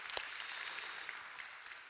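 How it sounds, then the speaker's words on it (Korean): Church congregation applauding during a Sunday service: a soft, distant patter of many hands clapping, fairly faint and even, with one sharper clap near the start. "한 번 더 큰 박수로 격려합시다"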